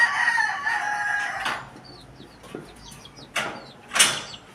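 Rooster crowing loudly and close at the start, followed by chicken clucks and a few sharp knocks in a quiet farmyard.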